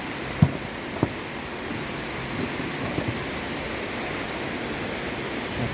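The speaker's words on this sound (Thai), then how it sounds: "ฝนตกนะครับนี่ ตกหนักอีกแล้ว" Heavy rain pours down in a continuous broadband roar, with a couple of faint knocks early on and no talking.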